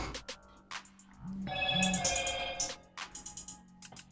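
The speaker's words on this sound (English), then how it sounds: "So the speaker gets decently loud." A Samsung Galaxy A30's bottom speaker plays a ringtone melody at moderate volume, with bright tonal notes and a short sustained chime section in the middle, set among light handling clicks.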